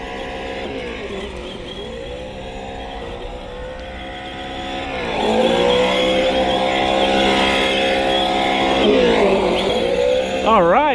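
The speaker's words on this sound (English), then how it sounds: "we're gonna take it to the gravel and see just how well it does." A Traxxas Slash RC car engine whines and revs continuously while driving on gravel, pitch rising and falling as it accelerates and slows, loud and close throughout.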